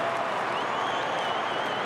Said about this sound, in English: Saints fans cheer, stand in their seats.